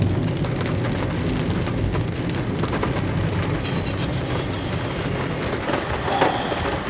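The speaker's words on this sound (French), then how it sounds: "Là, il y a une énorme grêle." Dense hail from a violent supercell thunderstorm in the Beaujolais, France, pelts a hard surface in a continuous hissing clatter, with sharp individual impacts popping out of the steady roar.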